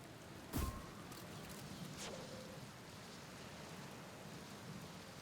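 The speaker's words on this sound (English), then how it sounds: "Let's get out of the rain." Steady rain falls in the video game Outer Wilds, a constant even hiss with a brief louder splash or rumble near the start, heard alone with no voices.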